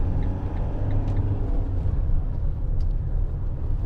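A 2016 Citroen Relay 2.2 HDi 35 Enterprise L3H2 van drives along, a deep continuous engine and road rumble heard from inside the cab.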